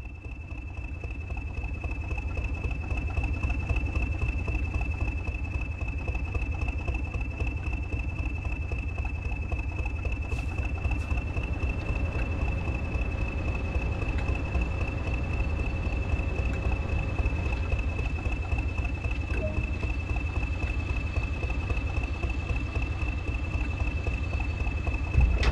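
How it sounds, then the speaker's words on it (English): Class 20 diesel electric locomotive in rail freight red stripe livery idles steadily in a yard, a continuous low engine drone with a constant whine running throughout, no voices. "Welcome to this Class 20 diesel electric locomotive in rail freight red stripe livery."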